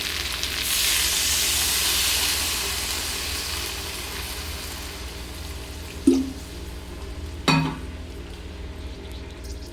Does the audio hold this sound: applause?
no